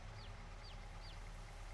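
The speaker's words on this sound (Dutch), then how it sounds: "We hebben zoveel kuikens, dat is niet normaal." Chickens cluck quietly in the farming video game Farming Simulator 22, three short chirping calls repeating at an even pace over a faint, steady background hum.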